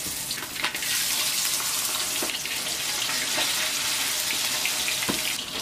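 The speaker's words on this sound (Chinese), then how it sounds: "锅中下宽油，滑锅烧至5到6成热，将挂好糊的小黄鱼放入锅中" Battered yellow croaker fish dropped into hot oil in a wok, with a dense, steady sizzle and crackle and a few sharper pops, loud and close throughout.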